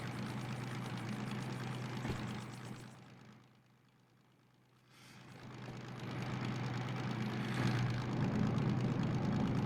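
A struggling vehicle engine dragging slowly uphill inside a tunnel, a loud droning rumble with heavy low hum that dips briefly then swells back, echoing throughout with no voices.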